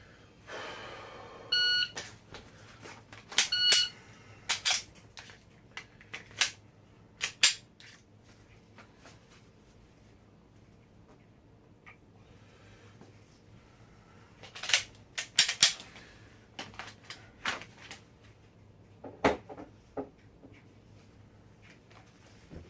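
Sharp, isolated handgun trigger clicks from dry fire practice with a five-step draw come in scattered pairs and small groups amid near silence, close and crisp, with no talking.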